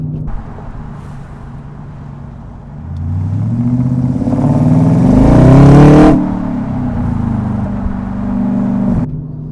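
A 450-horsepower Audi RS5 with a muffler delete accelerates hard, its loud engine note climbing and swelling for several seconds before easing back to a steady drone.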